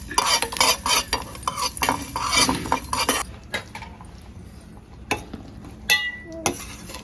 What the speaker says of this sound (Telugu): దోరగా వేయించుకోవాలి.